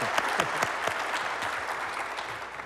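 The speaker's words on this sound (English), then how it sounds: "round of applause if you've been to the Mesa Arts Center" A studio audience claps in a steady, dense round of applause at a live sponsor segment, with some sharper individual claps standing out near the front and no voices heard.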